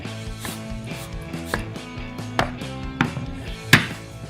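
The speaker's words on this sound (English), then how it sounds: "If you're using fresh, just use a sharp knife and cut it a little bit." A sharp knife chops fresh oregano on a board in a kitchen, a series of crisp, irregular taps and thwacks close by, with one sharper knock near the end; no one speaks.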